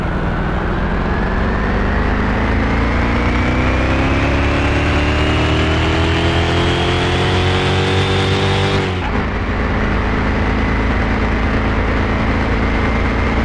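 A V8 engine swapped into a 1980 Ford Bronco revs steadily at half throttle, its loud, rising drone climbing in pitch for about nine seconds before dropping sharply and settling into a rough, high idle-like roar.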